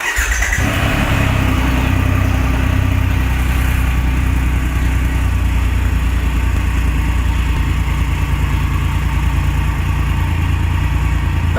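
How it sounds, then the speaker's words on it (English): A Triumph Rocket III motorcycle on its stock exhaust idles after a brief start-up, a loud, close, steady deep rumble with an even low throb that holds throughout. "That's how she sounds at idle"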